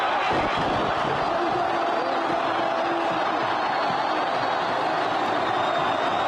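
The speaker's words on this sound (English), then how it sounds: "Listen to that crowd." A large crowd celebrating Hosni Mubarak's departure in Egypt roars in a dense, continuous wall of cheering and shouting, loud and sustained throughout without a break.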